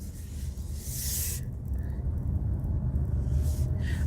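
A four-wheel-drive car drives with a steady low engine rumble and road noise that builds slightly, accompanied by brief hissing, rubbing sounds from within the cabin.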